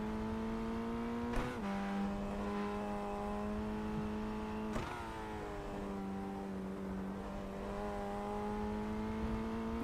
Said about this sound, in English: Okay, so definitely full throttle this time through here.